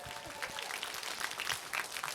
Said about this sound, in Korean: 김세아 씨에게 여러분 다시 한번 뜨거운 박수 보내주시겠습니까?